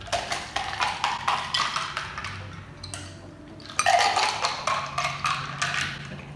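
A piña colada is stirred and mixed in a cup with a utensil, giving soft, repeated scraping and sloshing strokes with faint clinks, steady and close, pausing briefly midway before resuming, without talk.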